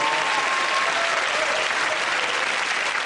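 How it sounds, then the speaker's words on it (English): A television comedy panel show's studio audience applauds in a loud, dense, continuous wash of clapping that fills the room without a break. "Give it that round of applause to Russell, Fred and Andy."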